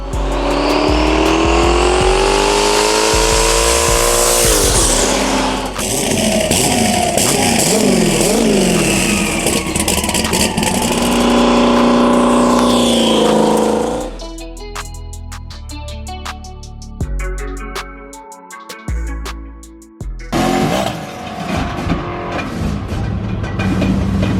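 A 1,200-horsepower turbocharged Trans Am with a 91mm turbo and a 388-cubic-inch LS V8 on Holley EFI roars at full throttle, revving hard with squealing tires, then drops back to a rough, popping lope as it eases off.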